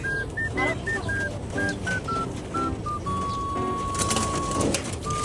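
A pigeon coos in a repeated series of soft, close calls, with someone talking alongside and a steady electronic tone sounding partway through.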